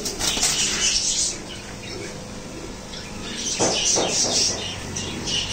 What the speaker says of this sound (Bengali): এখানে এক জোড়া ম্যাকপাই কবুতর আছে, এটা আপনার হলুদ ম্যাকপাই বলে, বিগ সাইজ কবুতর।